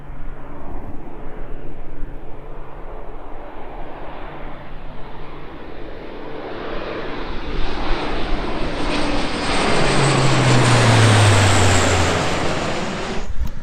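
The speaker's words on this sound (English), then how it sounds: "There's a massive fucking plane." A large airplane flies overhead, its loud engine roar swelling steadily and peaking near the end as it passes close by, with a falling whine in the final seconds. No one speaks.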